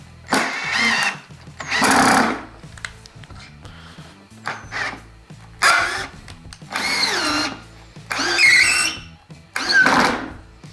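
A Ryobi 18V ONE+ compact drill/driver (P1811) bores with a large 3-inch bit at the limit of its capacity, running in repeated loud, close bursts that strain and bog down between short stops.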